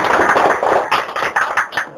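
A crowd applauds the Guinean national football players during the Guinean consul's visit in Douala at the CHAN tournament: dense, steady clapping from many hands, loud and close, running throughout without pause.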